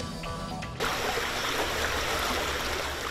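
Flood waters of Indian Creek rushing past a home in Menifee County, a loud, dense, continuous roar of flowing water that cuts in abruptly and stays steady throughout.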